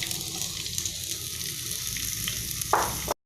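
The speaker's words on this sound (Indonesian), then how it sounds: "Kita masukkan, kita tumis sampai harum." Sliced spring onion and shallots sizzle steadily in hot oil in a pan, a close, dense frying hiss with a brief stirring scrape near the end.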